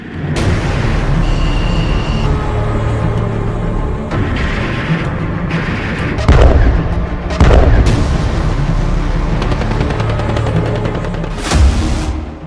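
Heavy artillery shelling and air strikes on a battlefield in the Russia-Ukraine war, with drones, artillery rounds and fighter-jet bombing, heard as a loud, continuous rumble broken by several sharp, booming blasts.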